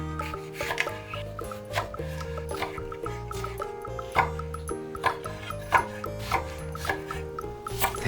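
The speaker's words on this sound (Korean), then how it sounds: "양파는 잘게 잘라주시고 파프리카도 잘게 잘라주세요." Onion and paprika being finely chopped with a knife on a board, with repeated quick taps running steadily under prominent background music.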